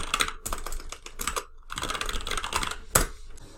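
A terminal command being typed on a computer keyboard during a server setup, with quick bursts of crisp key clicks, short pauses between them and one louder keystroke near the end.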